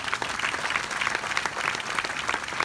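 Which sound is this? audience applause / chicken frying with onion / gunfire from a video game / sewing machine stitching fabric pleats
audience applause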